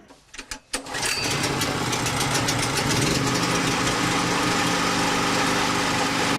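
A power generator engine installed in a separate room of an apartment building runs steadily and loudly after a few brief knocks at the start, a continuous droning rumble with no talk.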